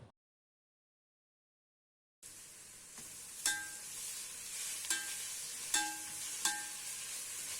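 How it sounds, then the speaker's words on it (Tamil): Onions half-cooked and sautéing with ginger garlic paste in a large pan for prawn biryani, a faint steady sizzle after a silent gap, broken by several sharp scraping stirs. "வெங்காயம் நல்லா பாதி வெந்ததுக்கப்புறமா இஞ்சி பூண்டு பேஸ்ட் சேர்த்து நல்லா வதக்கிக்கோங்க."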